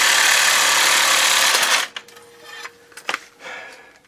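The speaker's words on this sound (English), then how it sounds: "I'm going to try and reach in there with the Sawzall and nip it off a little better" A Sawzall reciprocating saw cuts off a metal part with a loud, steady, harsh buzz for about two seconds, then stops abruptly, followed by a few scattered metallic clunks and knocks.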